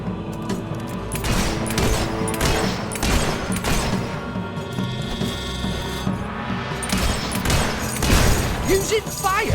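Gunfire in the video game Fable 3 crackles in rapid bursts of shots and impacts, loud and busy, with a voice talking over the action.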